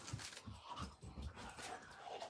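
A dog whimpers and pants in short, soft yips and whines spread over a couple of seconds, fairly faint and close, with no talk over it.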